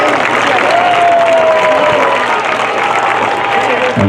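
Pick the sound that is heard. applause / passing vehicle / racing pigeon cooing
applause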